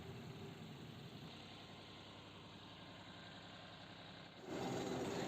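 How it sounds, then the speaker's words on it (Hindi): A tractor's PTO shaft drives spinning mulcher blades, giving a steady engine-like mechanical drone that grows noticeably louder and rougher near the end. "पीटीओ शाफ्ट की मदद से ये जो ब्लेड है ये घूमना चालू हो गई है"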